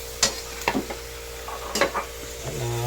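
Boiled shrimp being stirred in a pan: a few sharp scraping clacks of a utensil against the pan, spaced irregularly over a low steady sizzle and hum.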